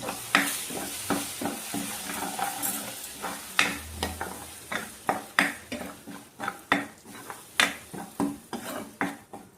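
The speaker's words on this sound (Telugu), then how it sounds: "ఆయిల్ వేసి ఈ మిక్సీ పట్టిన పేస్ట్ని మొత్తం వేసి బాగా ఫ్రై చేయాలి" Steady sizzling as a ground spice paste fries in oil for kaju paneer curry, a utensil scraping and stirring in a repeated rhythm, sharp clacks against the metal, close and fairly loud.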